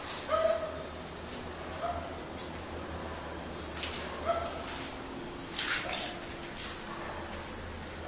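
A dog gives several short yips and whimpering barks, spaced irregularly, over a faint hum of night ambience; fairly faint and somewhat distant.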